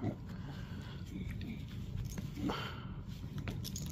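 Bulldog puppy snorting and grunting up close, a steady rough, breathy snuffling that continues throughout the clip without any talk.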